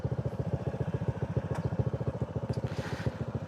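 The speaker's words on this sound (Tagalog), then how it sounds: "ang tunog ng makina" A motorcycle engine runs loud and close, its rapid, pulsing idle chugging steadily throughout with no talking.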